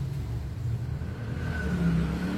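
A homemade battery-powered angle grinder, converted from a broken corded one and running on a freshly charged battery, whirs steadily once switched on, a close, continuous motor drone that rises slightly in strength toward the end.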